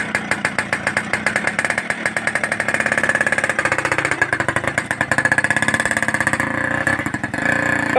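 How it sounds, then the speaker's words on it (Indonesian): A Suzuki Satria FU motorcycle with a loud aftermarket exhaust revs hard and close, its engine note rising and falling in rapid rough pulses that run continuously without a break. "Knalpotnya seperti pabrik tahu"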